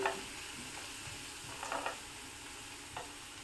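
Garlic sautés gently in a pan for paneer bhurji, a soft steady sizzle broken by a few brief stirring scrapes.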